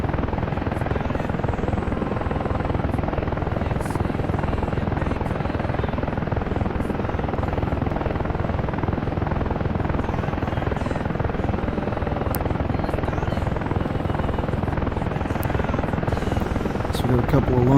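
An AH-64A Apache helicopter in the DCS flight simulator drones steadily with continuous rotor and engine noise, loud and close throughout, with no speech over it.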